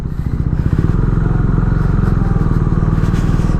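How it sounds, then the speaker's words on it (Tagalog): A KTM Duke 390 naked motorcycle being ridden, its single-cylinder engine a steady, loud, close throbbing drone with a fast pulsing beat throughout, some wind rush on top. "nandito na nga tayo sa motorsiklong ito, which is KTM Duke 390. Tinetesting na nga natin siya."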